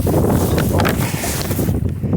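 Loud, blustery wind buffeting the microphone with a heavy rumbling roar, rising and falling in gusts.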